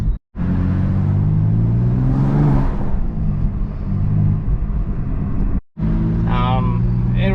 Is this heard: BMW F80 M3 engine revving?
yes